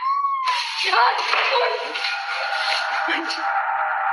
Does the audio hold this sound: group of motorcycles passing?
no